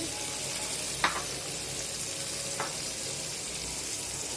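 Small dried shrimp sizzle in a pan of browned onion and garlic, a steady hiss with two sharp utensil clicks about a second and a half apart.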